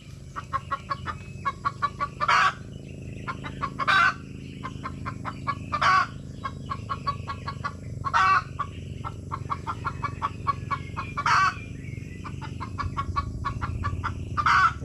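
Farm chickens clucking in a rapid, repeated rhythm, with several louder bursts of squawking or crowing at regular intervals over a steady background hum.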